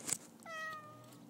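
A cat stuck on a house roof gives one clear, drawn-out meow, fairly faint and a little distant, following a brief clatter at the start.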